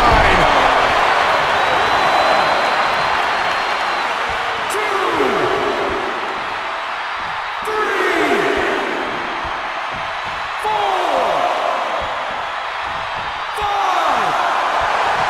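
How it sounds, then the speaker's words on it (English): A roaring arena crowd in the WWE 2K22 wrestling video game surges in loud waves during a WWE Championship match involving the Undertaker, with sharp slams cutting through and commentary over the noise. "The sound of this crowd is deafening, and he's asking for more."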